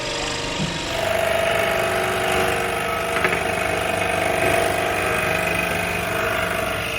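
A scroll saw cuts wood with too little downward pressure, so the table vibrates and dances: a loud, steady mechanical buzz with a sustained whine and rattling chatter running throughout, close and alone.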